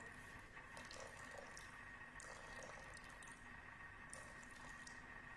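Tap water poured into a Thermomix bowl, a continuous quiet stream with light splashing and bubbling, steady from start to end with no talking.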